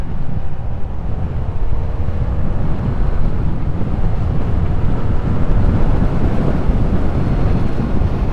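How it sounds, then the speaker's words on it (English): Loud, constant low roar of wind buffeting the microphone while a rider cruises a Yamaha MT-07 motorcycle at about 70 mph on a highway, the rumble steady and dense throughout with no speech. "I'm going about 70, and it's I can feel the wind a lot right here"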